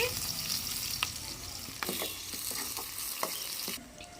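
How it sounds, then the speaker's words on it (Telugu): Onions and green chillies frying in hot oil for chicken roast, a soft, even crackling sizzle with a few sharp spatula knocks and scrapes, fairly quiet and near, no talking. "నూనె వేడెక్కిందండి ఉల్లిపాయలు అయితే వేసుకుంటున్నాను పచ్చిమిరపకాయలు కూడా ఒక మూడు పచ్చిమిరపకాయలు వేసుకున్నానండి"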